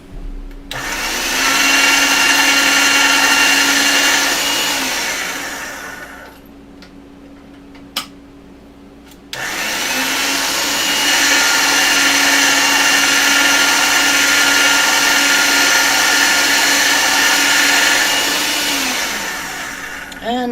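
A flower glass cane being rolled through a pasta-style roller machine: a steady loud motorized whir with a grinding hum, running for several seconds, briefly dropping away with a click, then resuming at full strength for a long stretch.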